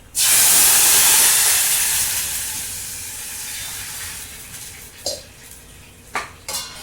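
A pot of salted water heating on the stove for a homemade veg biryani bursts into a loud steamy hiss that slowly fades, followed by a few sharp metallic clinks of utensils.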